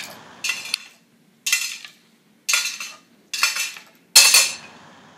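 A spoon is picked up and handled during a hand function test, giving five separate clinking, scraping bursts of metal against a hard surface, spaced about a second apart, close and fairly loud with silence between them.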